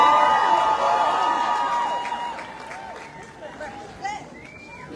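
Crowd at a peace gathering outside Richmond City Hall, Virginia: a loud, continuous murmur of many voices with scattered shouts and a ringing tone, thinning slightly toward the end.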